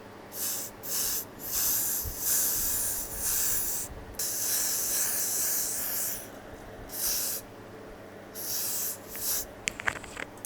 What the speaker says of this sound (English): I'm gonna take my spray and pretty much just spray my hairline